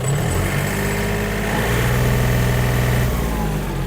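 Small Yanmar US-31D mini tractor diesel engine running steadily in first gear at minimum speed, a loud, continuous close-up rumble with a slight rise in revs near the middle and no talking.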